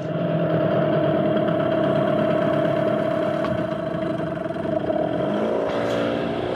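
An outboard motor idles steadily at low revs after its idle has been adjusted up a quarter turn, a continuous even hum that wavers slightly near the end.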